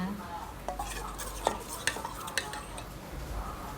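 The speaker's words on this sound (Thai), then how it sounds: "คนให้ส่วนผสมเข้มข้นนะคะ" A spoon scraping and clinking against a bowl while mixing flour batter for crispy fried vegetables, with a few sharper taps among soft stirring sounds, close up and without speech.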